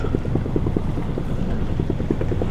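A small boat motors into a headwind and short chop off the coast near Gibraltar Point, its steady engine drone running under gusting wind noise and rhythmic slapping of water against the hull.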